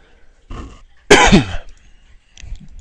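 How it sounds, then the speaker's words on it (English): A person coughs a few times in quick succession, close and loud, with one harsh throaty cough at the center and brief quiet between. "Sorry about the coughing."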